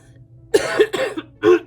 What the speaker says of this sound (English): I've been coughing more, as you're going to hear